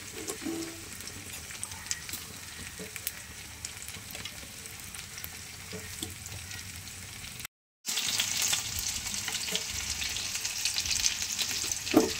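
Fish shallow-frying in a pan at home, a steady broadband sizzle with occasional soft stirring knocks, continuous and close, briefly cutting out before resuming louder.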